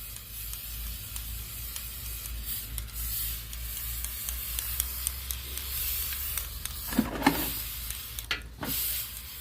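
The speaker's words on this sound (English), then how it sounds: "Give her another spray." A boat motor gets sprayed with paint stripper, giving soft hissing spray bursts over a low hum, with a couple of louder spurts near the end and no speech.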